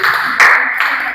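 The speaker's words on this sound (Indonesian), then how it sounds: "Berikan tepuk tangan untuk kelompok 1." A primary school class claps for a group after its presentation, a short, loud burst of hand claps in a few uneven surges lasting about a second.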